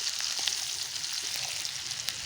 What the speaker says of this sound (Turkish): şu anda kömürde kaynıyor